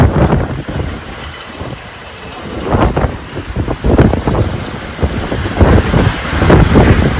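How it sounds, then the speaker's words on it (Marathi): A strong storm with wind and rain, heavy enough to blow down a tent canopy, roars and gusts loudly. The surges come in uneven waves that buffet the microphone, with no voices heard. "तगडा वादळ आला आमच्या आमचा सगळा हंडी मांडी फुडल्या वादळानी"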